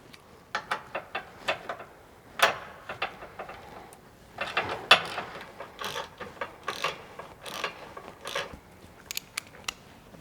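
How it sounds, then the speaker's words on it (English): A hand ratchet clicks in repeated quick bursts while backing out two M6 screws on a Polaris Ranger 1000 crew side panel, close and crisp with short pauses between runs. "we'll remove the two M6 screws for where the striker bracket will be placed"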